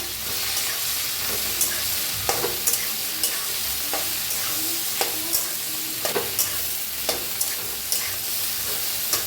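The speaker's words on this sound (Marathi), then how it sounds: "थोडंसं हिंग पावडर अर्धा चमचा भेंडी भेंडी छान असे भाजून घेऊया आता" Okra fries in a pan with cumin and asafoetida, making a loud, steady sizzle and hiss. A spatula stirs through it with regular light taps and scrapes against the pan, close up and with no one talking.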